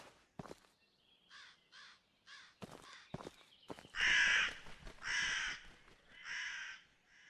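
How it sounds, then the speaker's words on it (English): Several loud, harsh crow caws in the video game The Fabled Woods, coming in spaced bursts that grow heavier toward the end, with softer woodland clicks and rustles between them. "Oh, there's a crow."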